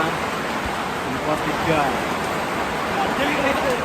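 Rain falls on a mountain trail at camp post 3 on Mount Sindoro, reached by the Kledung route in Central Java in December, making a steady, dense hiss throughout while someone speaks over it.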